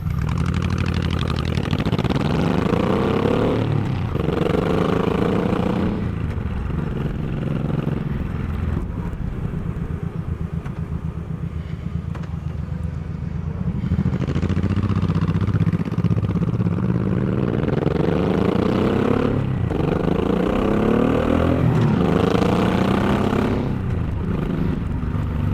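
A motorcycle fitted with a Cobra 2-into-2 Classic Deluxe staggered dual slash-cut exhaust idles and revs, its deep, loud, throbbing note rising and falling in several throttle blips over a steady rumble.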